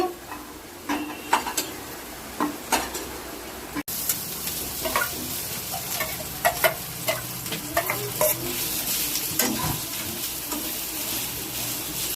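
Food frying in a hot karahi while being stirred: a steady close sizzle broken by repeated scraping and tapping of the spatula against the pan, with no talking.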